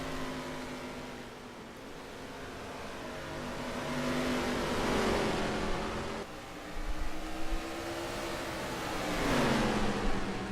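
Ford supertruck and other racing supertrucks roar around a track during a night race: loud sustained engine drone rising and falling in pitch as trucks accelerate and sweep past, with repeated surging passes.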